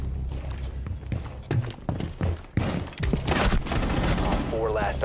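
Rapid bursts of gunfire in a Rainbow Six Siege match, clustered shots and thuds cracking out over a busy game soundscape while a player talks over the action.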